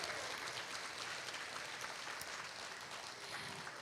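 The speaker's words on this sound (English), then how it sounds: "Let's give another round of applause for our division winners." Audience applause for division winners at a school district Teacher of the Year ceremony, a steady, soft wash of clapping that holds evenly from start to finish with no talk.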